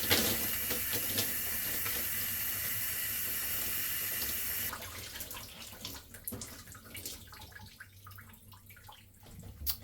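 Water runs steadily from a tap while natural 4C hair is rinsed out, a close continuous splashing stream for about five seconds before fading into softer, intermittent trickles and drips.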